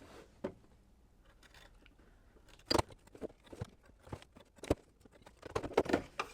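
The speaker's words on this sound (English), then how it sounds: "once again I'm going to trim away the excess fabric from outside of the center applique piece" Scissors snipping away excess appliqué fabric around an embroidered piece, a series of sharp, close, irregular cuts and soft rustles with quiet gaps between them.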